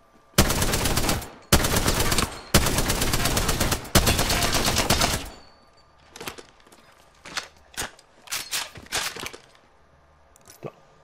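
Shooter video game gunfire: four long, loud sustained automatic bursts come in quick succession, followed by quieter scattered shots and clatter. No voices are heard.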